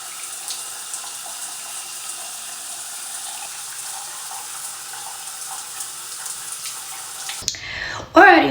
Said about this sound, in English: I'm about to hop in the shower